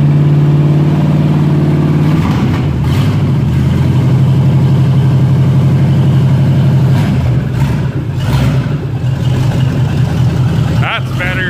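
Car engine fitted with straight pipes and a brand new carburetor runs loud and close, a steady throbbing drone that shifts in pitch partway through with a few rev changes, while people talk over it.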